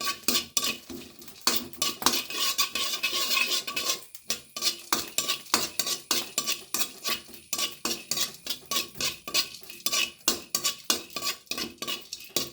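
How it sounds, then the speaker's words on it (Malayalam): Cloves and garlic are dry-roasted in a pan while a metal spoon stirs them, making steady, close scraping and clinking strokes in a repeated rhythm. A faint sizzle sits underneath. "ഗ്രാമ്പ് വറുത്തെടുക്കാം പിന്നെ രണ്ട് വെളുത്തുള്ളി അതിനോട് ഇടാം ഇത് വറുത്തിട്ട് വേണം പൊടിച്ചെടുക്കാൻ"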